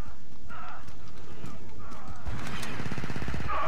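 A shotgun blasting in Star Wars Battlefront 2 on a snowy modded map, a loud sharp report followed by a rapid rattling burst of gunfire amid a busy battle with cawing-like effects.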